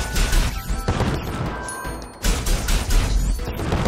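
Enemies open fire on the player in CrossCode, a 2D action RPG, producing a dense, continuous barrage of crashing shots and impacts. A brief dip near the middle interrupts it before the loud volley resumes.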